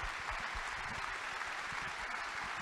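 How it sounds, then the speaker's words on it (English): An audience at an annual keynote dinner applauds two community icons, continuous dense clapping holding an even level throughout, with no voices standing out. "I want you to give a round of applause to these two icons in our"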